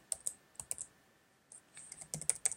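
Typing on a computer keyboard while entering a variable name into an Excel formula, soft scattered key clicks in two short bursts separated by a pause, close and quiet.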